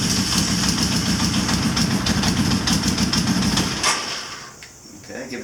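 A 1983 Honda CB1000 C Custom motorcycle engine with the choke on fires up and runs with a loud, rough, pulsing beat for almost four seconds, then drops away sharply as if it cuts out. A faint voice may be present.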